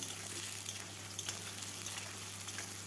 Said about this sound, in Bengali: আলুটা এখন ভালোভাবে ভেজে নেব।